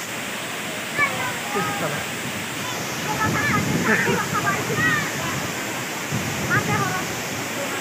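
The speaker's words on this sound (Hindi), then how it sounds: "ये देखिए वाटरफॉल" A waterfall at Dambul, Pomdhi, in Odisha roars as a steady broadband rush throughout, with excited voices talking over it at close range.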